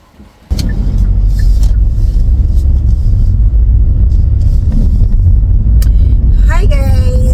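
A car just collected from inspection drives on the road, heard from inside as a steady, loud low rumble with road noise throughout. A brief chirp comes near the end, and no talk is heard.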